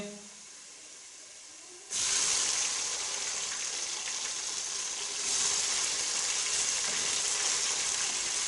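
Tomatoes tipped into a pan of golden-brown frying onions for a Pakistani mutton ojhri dish: near silence, then a sudden loud, close sizzle that hisses steadily on to the end.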